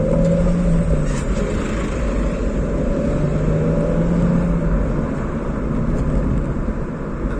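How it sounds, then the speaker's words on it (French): A Nissan 350Z engine runs steadily and loudly near a small village, a continuous deep drone with a slight rise and fall in pitch and no talking. "Une très belle sonorité ce moteur"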